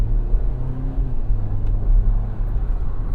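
A 2024 Jeep Wrangler Rubicon X two-door pulls forward with a steady, deep engine rumble, heard from inside the cabin, loud and continuous with no one speaking.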